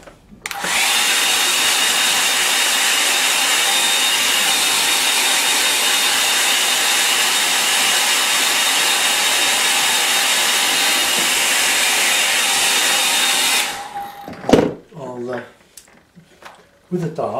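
A hair dryer blows steadily and loudly on a watercolour painting of a Lake District scene for about thirteen seconds, then switches off and is followed by brief handling sounds.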